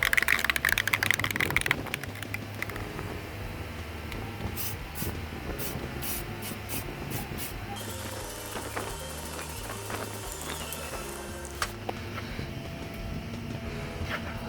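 A can of Rust-Oleum paint sprays onto a cast iron hydraulic reservoir in a loud initial hiss, followed by quieter shuffling, handling noises and short taps nearby, with no talking.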